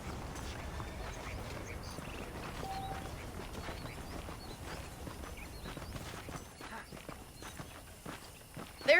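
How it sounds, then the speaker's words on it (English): Saddled horses in the video game Red Dead Redemption, with faint hoof clip-clops and footsteps over low ambient outdoor noise, plus scattered animal sounds in the background. "The horses are saddled up over here."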